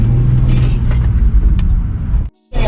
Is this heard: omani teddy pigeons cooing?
no